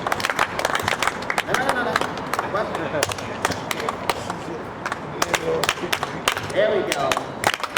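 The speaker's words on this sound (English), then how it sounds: "If y'all would just clap for me, please." An audience claps on request at a live event in sharp, rhythmic, fairly close claps that stay steady throughout, while a few people talk over the clapping.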